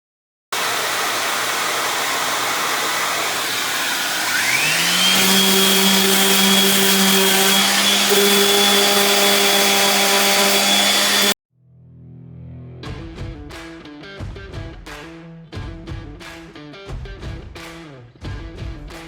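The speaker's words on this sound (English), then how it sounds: "I'm going to be using my Dewalt orbital sander with an 80 grit disc." DeWalt orbital sander with an 80 grit disc sanding a wooden French bedroom chest down to bare wood, a loud steady whirring drone that rises in pitch, then stops, followed by irregular clattering knocks.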